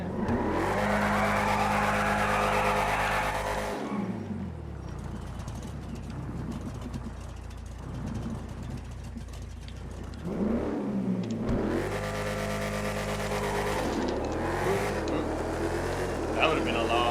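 Drag racing truck in a video game launched down the strip, engine revving hard and climbing through gears in loud rising sweeps, easing off in the middle, then winding up again.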